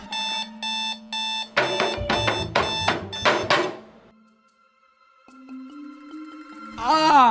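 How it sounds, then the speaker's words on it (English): An alarm clock beeps in short repeated bursts, then a louder ringing electronic alarm pattern takes over before fading, with another tone rising at the end. "first my alarm goes off"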